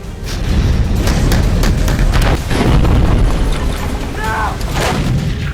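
Heavy booms and sharp blasts rumble continuously, overlapping into a dense, loud barrage with scattered cracks throughout, from explosions in wartime.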